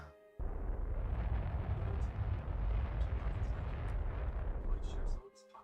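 Rocket engine firing in Kerbal Space Program, a loud sustained roar that starts abruptly and rumbles steadily for about five seconds before cutting off, with faint background tones.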